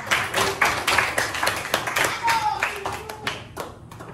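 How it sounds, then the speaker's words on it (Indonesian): A classroom of students claps hands during an informatics micro-teaching lesson, a series of sharp, uneven bursts of clapping that rise and fade several times, fairly close and loud, with some voices underneath. "Tepuk tangan buat."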